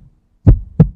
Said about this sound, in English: I feel my heartbeat rising in my chest.